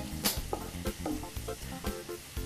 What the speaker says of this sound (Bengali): বাদামি করে ভাজতে হবে পেঁয়াজ